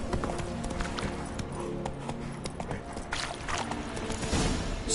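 Roach, Geralt's horse in The Witcher 3: Wild Hunt, galloping with a dense, continuous drumming of hooves under loud in-game ambience and music, close and sustained throughout.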